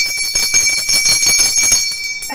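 A bell on a television program is rung forcefully, giving a rapid series of bright metallic clangs with a sustained ringing tone throughout, loud and close with no talking.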